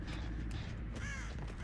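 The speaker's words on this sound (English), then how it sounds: "That chorus on the crows. It was like a million crows." Several crows caw in overlapping calls in a video game, a faint, distant chorus against a steady background hiss.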